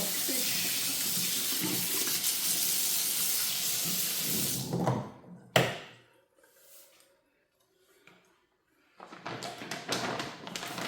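Tap water gushing into a kitchen sink for several seconds, then stopping, with a thud, a few faint clatters in the quiet, and running water resuming near the end.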